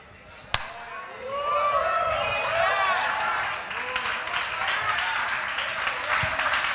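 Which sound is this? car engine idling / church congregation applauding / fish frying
church congregation applauding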